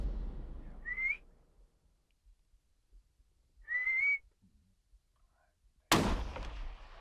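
Two short rising whistles from a hunter out by an oat field, each about a third of a second, spaced a few seconds apart outdoors, followed by a sudden loud gunshot-like blast near the end.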